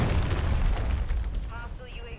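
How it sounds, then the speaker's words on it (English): A cruise missile explosion in Call of Duty Search and Destroy, a loud deep rumbling boom that rolls and slowly fades, with a game announcer's voice rising near the end. "Hostiles launched a cruise missile."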